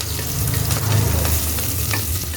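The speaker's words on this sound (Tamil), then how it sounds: "இப்போ இந்த வெங்காயம் லைட்டாக நம்மளுக்கு வதங்கட்டும்." Onions sautéing in oil with curry leaves for a Chettinad mutton curry, a loud, close, steady sizzle with stirring strokes running throughout.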